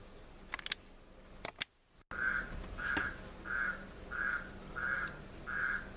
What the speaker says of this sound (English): if you can hear the frog, I apologize